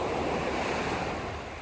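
Surf washing onto Vault Beach in Cornwall, a steady close roar of breaking waves with wind noise buffeting the microphone, no voices.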